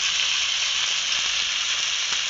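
Chopped onion and garlic sizzle steadily in hot oil over a tempering of nigella seeds and dried red chillies, a loud, even, close frying hiss with no voices.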